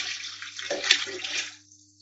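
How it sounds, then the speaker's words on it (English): Water poured from a container into a soup pot over chicken, a steady rushing splash for about a second and a half that thins out and stops, fairly close. "So you need to put enough water in to cover the chicken."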